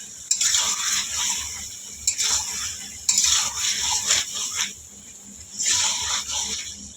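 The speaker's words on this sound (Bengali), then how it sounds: "মাংস থেকে এবার তেল ছাড়তে শুরু করে দিয়েছে।" Meat browning in spice masala as its oil separates, stirred with a utensil in the pan: repeated bursts of scraping and sizzling about every second or two, moderately quiet and with no talk.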